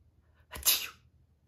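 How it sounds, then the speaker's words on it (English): A single sharp sneeze from a boy hiding under a bed on a dusty floor bursts out in a quiet room, brief and close, with a quick intake followed by a bright hissing burst. "He sneezes."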